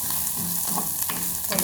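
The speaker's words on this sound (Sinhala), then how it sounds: "බැදෙන්න හරිනවා ටිකක්." Onions and garlic fry in oil in a pan, giving a steady close sizzle with a few brief stirring scrapes and no talk.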